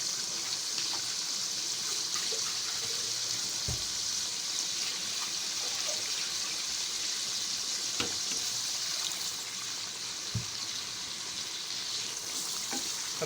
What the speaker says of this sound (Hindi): इसमें थोड़ा सा पानी हम डाल के इसी में घुमा के वो डाल देते हैं